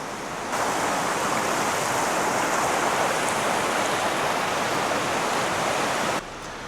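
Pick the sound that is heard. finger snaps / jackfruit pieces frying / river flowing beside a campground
river flowing beside a campground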